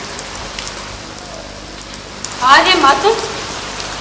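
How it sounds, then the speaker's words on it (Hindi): Steady rain falls in a continuous even hiss throughout, and partway through a voice briefly calls out over the downpour. "इस वर्षा में यहाँ?"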